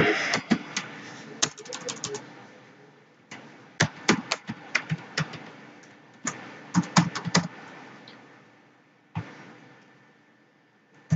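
A password typed on a computer keyboard, close and clear, with irregular clusters of sharp key clicks separated by short pauses and a faint background hum.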